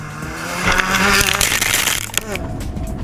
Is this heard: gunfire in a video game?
no